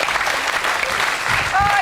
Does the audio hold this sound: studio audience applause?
yes